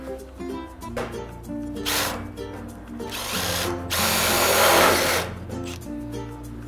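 A power drill drives a screw into a carport beam during shed construction, with a whirring motor that surges in several bursts of rising pitch and loudness and winds down between them; no speech is heard.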